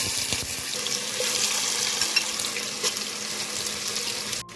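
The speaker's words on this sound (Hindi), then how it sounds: "अब हम इसमें मैरिनेटेड चिकन ऐड करेंगे।" Marinated chicken frying in hot mustard oil gives a steady, close hiss and sizzle that runs unbroken and fairly loud, with no voices over it.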